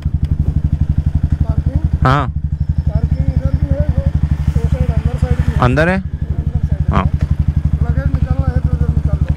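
A motorcycle engine runs steadily throughout at close range on a ride from Belgaum to Goa, its low rhythmic thrum continuous beneath brief bursts of talk.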